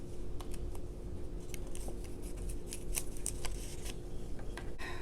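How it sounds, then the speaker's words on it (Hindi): Rapid crinkling and ripping of tape strips with paper cards rustling as they are joined together, busy and close, with no speech over it. "थोड़ी थोड़ी टेप लगा के इसको जोड़ें।"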